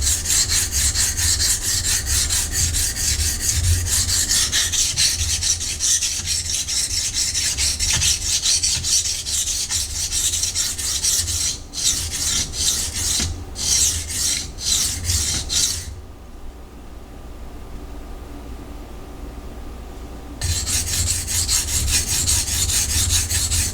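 A Ruike P801 knife with a 14C28N steel blade is stroked along a sharpening stone, raising a close, loud, continuous rasping scrape with brief pauses between passes and one quieter stretch, no speech.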